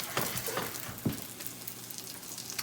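Egg foo young fries in a hot pan with a steady crackling sizzle and a few louder spits and pops, close and continuous with no talking.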